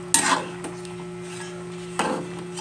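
A spoon stirs santol and crabs in coconut milk inside a pot, with two distinct scraping clatters against the pot and a soft rub between them, over a steady low hum.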